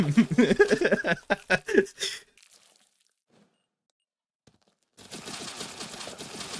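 A rapid burst of gunfire hammers away in the sci-fi station game Space Station 14, then cuts to near silence before a second stretch of fainter, dense rattling fire resumes.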